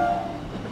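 An EMU local train pulls into Gurap station on a Howrah line, heard as a steady rumbling hum with a faint high tone fading early.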